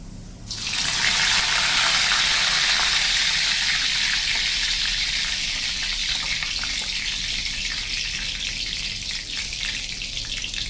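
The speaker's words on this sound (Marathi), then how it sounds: "आपलं तेल आता छान तापलंय. त्याच्यात आपण थोडे जिरे घालू, थोडासा कढीपत्ता" Cumin seeds and curry leaves dropped into hot oil burst into a loud, close sizzle that starts suddenly and holds as a broad, steady hiss, easing only slightly over ten seconds.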